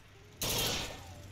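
Gunfire from Bioshock Infinite: Burial at Sea strikes an enemy, with a sudden loud burst of shots that decays into a rumbling tail and a faint voice underneath.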